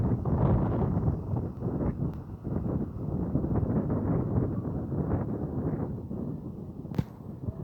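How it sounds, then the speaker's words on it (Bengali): Strong wind gusts steadily across a newly built bridge over a river at Chhayghara in North Dinajpur, a loud, continuous rushing roar buffeting the microphone throughout, with no voices. "হাওয়া বইছে খুব"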